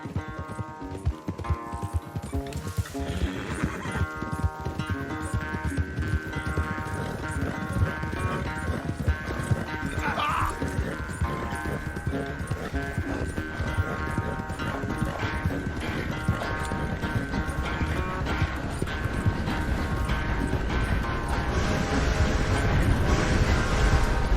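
Horses galloping in a race in the Red Dead Redemption 2 video game: dense, rhythmic hoofbeats pound continuously and grow slightly louder toward the end, with no voices heard.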